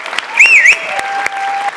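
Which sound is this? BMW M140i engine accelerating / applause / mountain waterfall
applause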